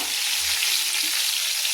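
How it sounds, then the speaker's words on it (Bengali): Eggplant slices fry over a medium flame in a pan, a close, loud, continuous sizzle with no talking. "এবার আমি বেগুনগুলোকে ভেজে নিচ্ছি"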